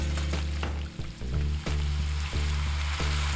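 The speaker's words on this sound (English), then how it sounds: "about 1 inch of vegetable oil here, and I brought it up to 375 degrees. And then I fried the potatoes." Potatoes fry in about an inch of vegetable oil heated to 375 degrees, giving a loud continuous sizzle and bubbling, broken by a few brief stirring or shifting knocks, with no voices.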